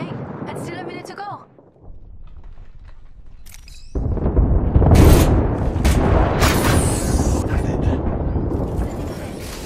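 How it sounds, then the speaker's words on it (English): Airstrike explosions in an Apex Legends-style battle royale game, a deep booming barrage that erupts suddenly and rolls on loudly with crackling debris, preceded by a voice speaking over quieter game noise. "Airstrike coming above."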